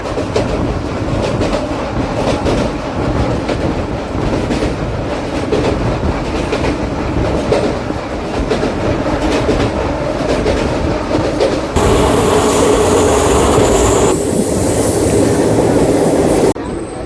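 An Intercity Superfast express on the coastal route from Bhubaneswar to Vizag rumbles along with steady clickety-clack of wheels and a loud sustained roar, rising in intensity near the end with some wheel squeal.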